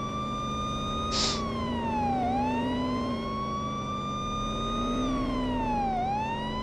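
A loud wailing police car siren in the video game Police Simulator: Patrol Officers sweeps slowly up and down over a steady engine rumble, with a brief horn-like blast near the start.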